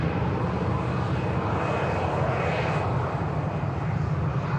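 A KLM airliner arrives at Manchester Airport with a steady, loud, dense engine roar that holds evenly throughout, with no talk over it.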